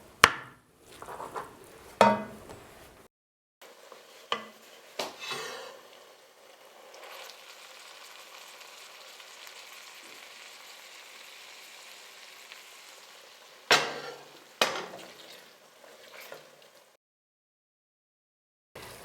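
Bacon fat renders in a pot on a wood stove with a soft, steady sizzle, broken by several sharp scrapes and knocks as a utensil stirs the contents, then near silence at the end.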